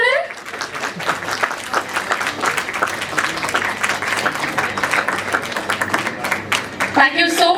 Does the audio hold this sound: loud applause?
yes